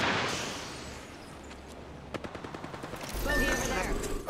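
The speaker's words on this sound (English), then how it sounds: "They're firing on me." Bursts of video-game gunfire from Apex Legends, a rapid string of sharp shots in a firefight with a steady hum underneath, fairly loud and close, no talk.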